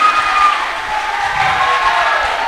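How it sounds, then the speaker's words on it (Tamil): An audience at a speech applauds, a steady wash of many hands clapping with a little crowd noise, continuous and fairly loud. "என்னைய சொன்னோன்னு என்ன ஒரு கைத்தட்டல் பாத்தீங்களா?"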